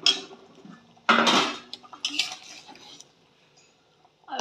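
Lid lifted off a pot of potato and egg curry, sharp metallic clatter and scraping of cookware in bursts with quiet pauses between, close by.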